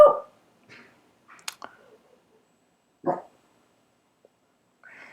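A small dog barks a few times indoors, short sharp yaps spaced apart with silence between them, close by and with no talking.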